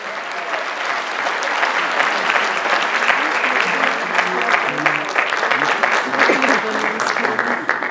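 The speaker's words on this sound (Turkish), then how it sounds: "Alkışlarınızla" A concert audience at a music society's centenary concert in Giresun claps steadily, dense sustained applause that swells after the first second and holds for several seconds, with faint voices underneath.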